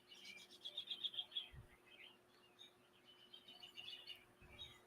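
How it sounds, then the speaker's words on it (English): Birds sing and chirp outdoors in quick, bright trills and repeated tweets, a few calls clustered close together over a quiet background hum. "Can you guys hear the birds? They're so loud."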